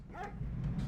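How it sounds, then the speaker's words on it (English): A dog barking in the video game The Last Express, one short bark or yip heard over a steady low rumble of background noise. "I wonder what set off the dog."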